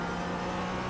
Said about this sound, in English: Now I'm getting on the gas, just right where I'm at the apex.